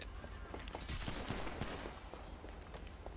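Gunfire in the GTA V video game, with a burst of rapid sharp shots clustered in the middle over a busy background of game noise.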